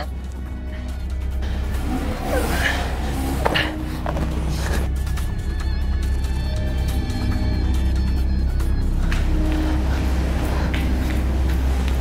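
A car pulls away after people climb in, its engine rumbling steadily and building slightly over twelve seconds, with a brief knock near the start and no voices over it.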